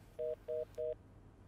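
Three short, evenly spaced telephone tones of an unanswered call sound in quick succession, quiet and clean, then fall silent apart from a low background hum.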